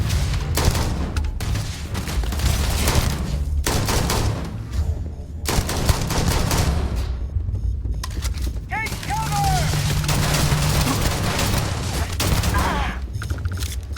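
Gunfire from Starfield, busy bursts of shots and booms filling most of the clip loudly, with a brief pause near the middle and game sounds mixed in.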